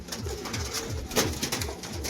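Pigeons of a big-size Kalshira roller breed coo in soft, repeated low rolling phrases nearby, several calls overlapping in a steady rhythm over a short stretch with no speech.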